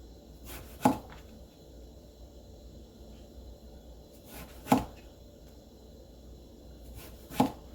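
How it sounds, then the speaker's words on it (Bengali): A knife cuts through a large eggplant in thin slices, giving three sharp, separate chops spaced a few seconds apart on a board, close and fairly quiet, with no talk. "তারপর পাতলা পাতলা করে স্লাইস করমু, বেশি পাতলা হইতো না আর বেশি গাঢ় হইতো না।"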